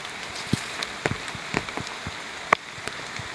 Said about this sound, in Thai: แล้วก็ฝนตกหนักด้วยครับทุกคน